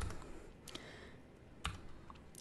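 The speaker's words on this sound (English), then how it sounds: "you better not look at what I'm typing" Credit card details being typed on a computer keyboard: a quiet run of soft key clicks, with a few sharper taps, over a noisy room background.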